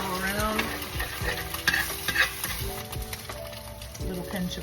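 Food sizzles and fries in a pan while a utensil stirs it, scraping and clinking in short irregular strokes close by, with a voice audible faintly in the background.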